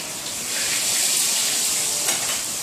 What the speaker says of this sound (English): I've got a couple in the pan I want to get out before they burn.